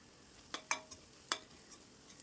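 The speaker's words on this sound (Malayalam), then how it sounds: "നല്ലതുപോലെ ഒന്ന് വഴറ്റി കൊടുക്കാം" Green chillies are stirred in a pan for a Kerala coconut chicken curry, a few soft scraping taps of the spoon over a faint, quiet sizzle, with no talking.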